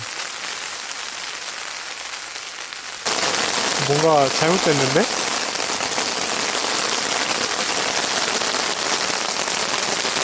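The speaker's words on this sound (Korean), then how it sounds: "요 비가 너무 많이 오는데요. 빗소리는 되게 좋다." Heavy rain pours on a small car at an auto campground in a dense, steady roar that jumps louder partway through, with a brief spoken phrase over it.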